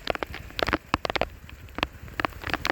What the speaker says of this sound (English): It is absolutely pouring down.